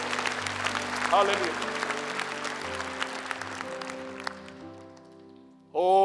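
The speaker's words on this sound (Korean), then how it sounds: "하나님께 영광의 박수 올려드립니다" A church congregation claps to give glory to God, a broad wave of applause that starts strong and gradually thins and fades over several seconds, with a sustained organ or keyboard tone underneath and voices joining near the end.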